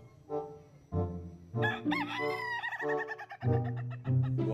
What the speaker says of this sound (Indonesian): Wow, ini ayam jago,